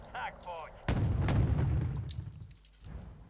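Gunfire and heavy impacts boom through a Wargame Red Dragon battle on the Eastern Front, with a loud blast sustained for about a second, then a rumbling tail and a smaller later hit, partly over speech.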